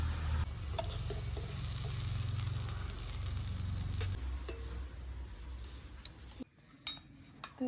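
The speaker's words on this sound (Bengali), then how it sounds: "আমাদের গোপালের জন্য তালের বড়া ভেজে নিয়ে চলে এসেছি" Palm fruit fritters (taler bora) frying in hot oil, a soft steady sizzle with stirring and a few utensil clinks against the pan, fading and thinning toward the end.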